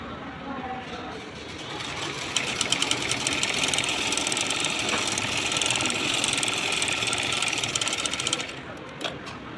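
A sewing machine runs steadily, stitching a loose basting seam on blouse fabric, with a dense continuous whir at close range that carries for nearly the whole span and stops near the end.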